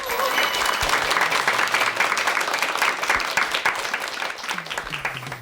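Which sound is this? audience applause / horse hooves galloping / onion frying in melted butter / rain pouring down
audience applause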